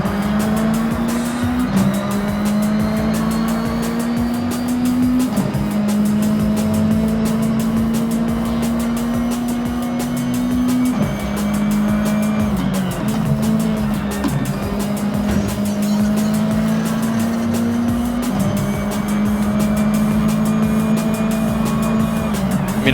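Racing car engine in the Forza Horizon 6 video game, droning loudly and steadily with gear shifts every few seconds, tire squeal mixed in, no talking.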